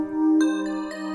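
Woodpecker Bells synth for a dark trap loop, processed with Gross Beat and sidechain, gives bright, bell-like tones that ring steadily with a couple of fresh note attacks over about a second.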